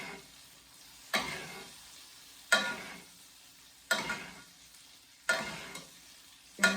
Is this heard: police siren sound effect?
no